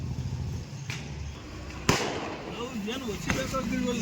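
Sharp firecracker bursts, a loud one near the middle and a couple of fainter pops, heard over people talking nearby.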